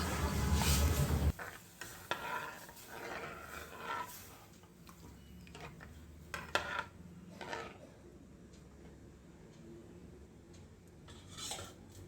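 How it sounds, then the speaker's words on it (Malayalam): A spoon scrapes and clinks around a pan as buttermilk is stirred into a spiced curry. The clatter comes in irregular bursts over a faint sizzle, with a louder clank at the start. "മോര് അതിലേക്ക് നന്നായി യോജിക്കുന്നതുവരെ ഇളക്കി കൊടുക്കുക"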